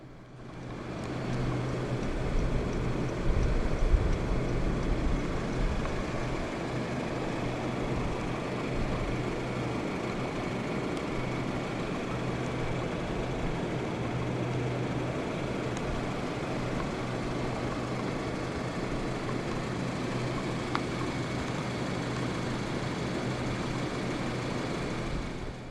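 A 2014 Honda City 1.5 E idles steadily with a low, even engine hum that stays at a constant level throughout, heard close by with no talking.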